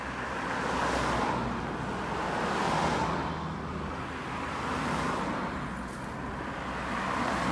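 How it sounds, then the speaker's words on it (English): A car rolls along a rural road in St. George, Barbados, a broad steady hiss of tyres and engine that swells and fades in long waves without ever clearly passing. "I thought a car was coming behind me"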